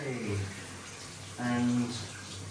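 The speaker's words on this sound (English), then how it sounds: "we have hot and cold running water" Water runs from a basin tap in a bathroom with hot and cold supply, a steady gushing stream that swells louder partway through, with people talking over it.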